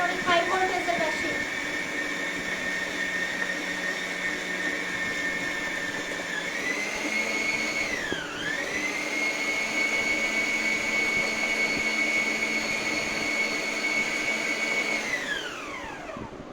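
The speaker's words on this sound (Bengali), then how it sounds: "আমি তো স্ট্যান্ড মিক্সারে করতেছি ভাই, আমি তো মিডিয়ামে রেখে করতেছি" A stand mixer whirs at medium speed with a steady whine, its pitch dipping briefly as it strains before winding down near the end.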